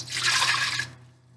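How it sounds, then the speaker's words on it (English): Fruit juice poured into a pitcher: a steady, close liquid pour lasting under a second, then stopping, over a low background hum. "So I'm going to pour that into my pitcher."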